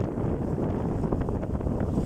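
Strong wind on the Amur River roars and buffets against the microphone in a dense, low, continuous rush, loud and steady throughout, with no voices.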